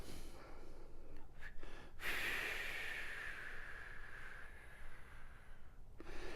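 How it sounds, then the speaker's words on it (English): A slow exhale during a breathing exercise, a long steady breathy rush that follows a couple of short sharp breath sounds and fades gradually over several seconds, close and fairly quiet, with no talking. "Now exhale."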